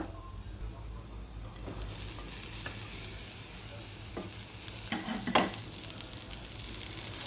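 Chopped spinach and sliced onion stir-fried in a pan for a Kerala thoran, a steady sizzle with scraping stirs and a few utensil knocks, close by and alone.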